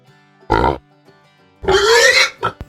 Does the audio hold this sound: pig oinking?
yes